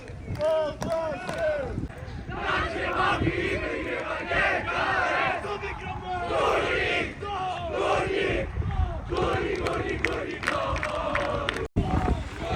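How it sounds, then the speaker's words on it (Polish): Away team supporters cheering and chanting at a football match, a dense roar of many voices with rhythmic shouted chants filling the whole stretch, loud and continuous. "Niestety słyszymy tutaj owacje kibiców przyjezdnych, drużyna przyjezdna się cieszy"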